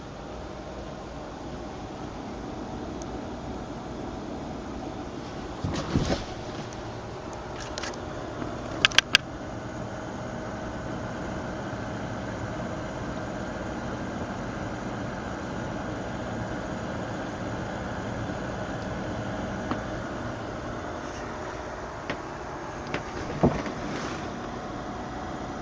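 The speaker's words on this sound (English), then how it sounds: "So this is on auto fan speed, so you can hear how loud it is with the two cards and SLI." A steady whooshing drone of two EVGA GTX 670 graphics card fans in SLI at auto speed, continuous and fairly even, with a few brief clicks and bumps along the way.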